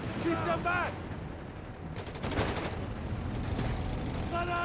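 Bursts of machine-gun and rifle fire rattle in rapid, repeated cracks during a Company of Heroes 3 battle between Wehrmacht and US forces, mixed with explosions and game effects while a commentator talks over them.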